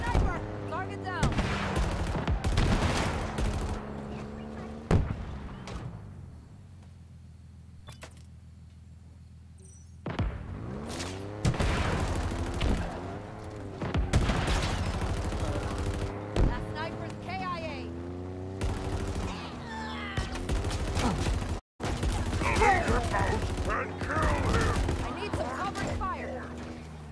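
Gunfire in the Halo Infinite campaign on Legendary difficulty: repeated loud bursts and sharp shots recur through the clip under game music and ambience, with a brief quiet stretch in the middle and a voice speaking at times.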